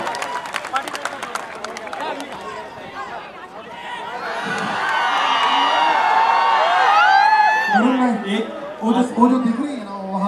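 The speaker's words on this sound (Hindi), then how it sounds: "तो इनके लिए प्लीज जोर से तालियां।" Crowd at a Dahi Handi celebration in India cheers and claps, starting with scattered claps then swelling into loud sustained cheering and whoops, with voices shouting over it.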